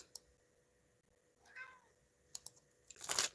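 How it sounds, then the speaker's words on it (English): A house cat meows indoors, a short rising cry in the middle followed by a louder, sharper meow at the end, with faint clicks and rustles in a quiet room. "Sorry, my cat's being at me."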